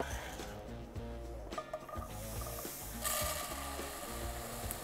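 Butter, finely chopped onions and orzo sizzle in a frying pan, a steady crackle broken by rhythmic scraping and stirring clatter.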